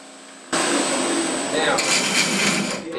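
A grinder profiling a forged knife blade starts up after a brief quiet moment, then gives a loud, continuous, harsh whirring grind that holds steady to the end.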